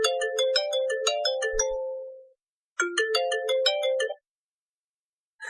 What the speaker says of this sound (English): I'm getting an incoming call from some woman on this app.